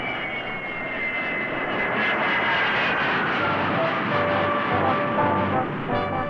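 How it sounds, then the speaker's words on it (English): Loud jet aircraft engine noise roars steadily, a broad rushing whine with shifting tones as the plane passes close by. "When the jet comes to the city, the results can be deafening."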